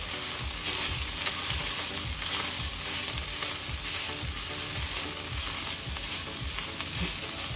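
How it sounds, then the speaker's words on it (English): Dry oregano and spices fry and get stirred in a pan for restaurant-style beef chilli, a steady loud sizzle with rhythmic scraping strokes of the spoon throughout. "And mix all the spices."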